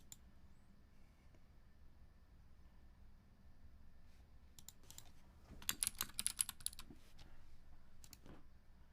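Sparse, faint clicky keystrokes on a keyboard fitted with Gateron blue ink switches, with a short cluster of louder taps near the middle and then scattered presses.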